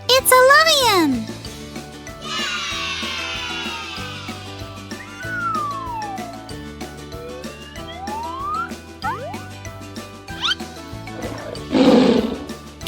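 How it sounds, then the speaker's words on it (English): A tiger's roar rings out as a loud, rough burst over a bouncy children's music track, followed by a few cartoonish sweeping tones and a final noisy growl near the end. "It's a tiger!"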